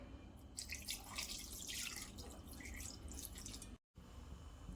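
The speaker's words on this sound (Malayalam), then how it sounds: "ഇനി വെള്ളം ഒഴിക്കാം" Splashy rush of water poured into a pan of salted chicken pieces, irregular and fairly close, then easing off into a quieter hiss with a brief dropout.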